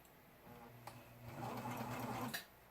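A serger bead-stitches a t-shirt sleeve in a short, steady burst, a low motor hum with fast stitching chatter, close by and fairly quiet.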